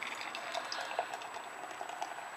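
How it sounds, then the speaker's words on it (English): Sixpoint The Crisp lager pours from a freshly opened can into a glass, a quiet, continuous gurgling fill with fizzing and no talking. "let's go ahead and crack it open and pour it up"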